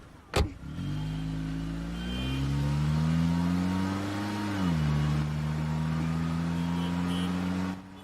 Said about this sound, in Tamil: டிரைவர் வண்டி எடுப்பா.